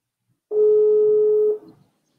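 A phone call that fails to connect gives a single steady electronic tone lasting about a second, loud and clean against silence, with no voices.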